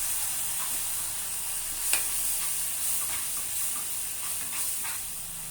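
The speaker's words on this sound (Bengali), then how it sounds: "দিয়ে দেবো 1/2 চামচ জিরের গুঁড়ো, কালার হওয়ার জন্য কাশ্মীরি লঙ্কার গুঁড়ো, দিয়ে নেড়ে চেড়ে নেব।" Cumin powder and Kashmiri chilli powder are stirred in a hot pan, giving a soft continuous sizzle with a few sharp utensil clicks and scrapes against the metal.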